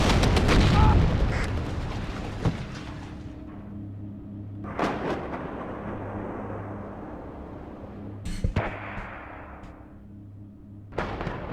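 Artillery in the Cold War strategy game WARNO, with a loud opening blast followed by scattered heavy booms and sharp impacts over a low steady hum, some nearer and some distant.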